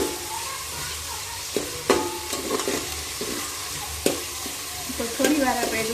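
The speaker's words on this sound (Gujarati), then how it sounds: "થોડી વાર આપણે ડુંગળીને સળવા દઈશું" Onions for Kathiyawadi vagharelo khichdi hiss and crackle in a pan, with a spoon stirring and scraping through them at irregular moments over a constant close sizzle.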